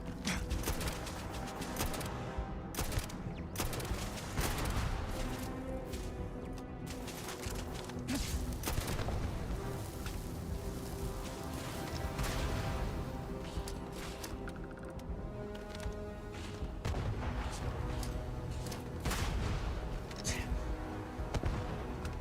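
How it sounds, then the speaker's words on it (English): Gunfire and grenade blasts in a video game play as dense, continuous rapid bursts and thuds, loud and close throughout, with players' voices talking over the fighting. "Stop throwing grenades at me from the other way."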